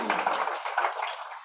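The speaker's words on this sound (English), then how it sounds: "So big round of applause for our team." Audience applause for a marketing leadership panel team at AUT, a dense, steady patter of many hands clapping throughout at moderate loudness, with a voice faintly mixed in.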